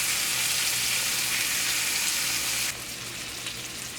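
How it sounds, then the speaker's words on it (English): Thawed shrimp sizzle as they sauté in a pan over medium-high heat, a steady, bright frying hiss that drops slightly in level near the end, no voices over it. "it just takes like 3 or 4 minutes to cook thawed shrimp"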